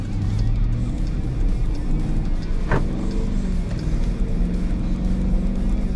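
Steady low engine drone from a 2021 Dodge Durango R/T in sport mode under light throttle, heard from inside the cabin, continuous and fairly loud with a single brief click partway through.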